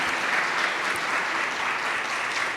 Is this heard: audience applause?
yes